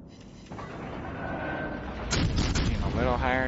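Heavy naval guns boom from a ship in a World of Warships Legends battle involving a Baltimore cruiser and Bismarcks, the blasts swelling into a dense rumbling barrage over a steady low engine drone.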